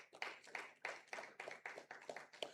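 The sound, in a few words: audience applause at a debate competition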